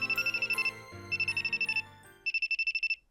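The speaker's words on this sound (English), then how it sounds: "My daydream is soon interrupted by my phone ringing." A phone ringtone in a visual novel game chirps in three bursts of rapid electronic trills separated by short gaps, with soft background music underneath and the last burst standing alone.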